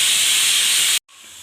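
Semolina (rava) tipped into a hot pan sets off a loud, broad sizzling hiss for about a second, then cuts off abruptly before a softer hiss resumes.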